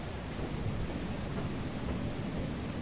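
A thunderstorm in Lethal Company rumbles with dense, steady rain and low thunder, a constant wash of noise at moderate loudness with no voices.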